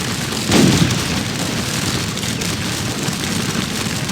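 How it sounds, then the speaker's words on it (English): A musket volley in Scourge of War Waterloo, a Napoleonic battle game: one dull, muffled boom rolls out, then a steady wash of distant battlefield noise continues. "another volley fire, boys"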